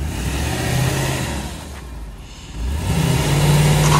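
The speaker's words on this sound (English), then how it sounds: "I heard the tires spin" A Lexus LS 430 doing a burnout, its engine revving hard with the tires spinning; a loud, close, steady roar that dips briefly midway, then surges again.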